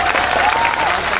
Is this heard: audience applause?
yes